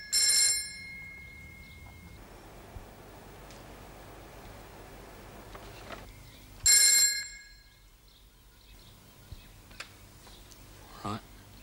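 An old-style telephone bell rings indoors, two short separate rings several seconds apart that stand out clearly against quiet room noise.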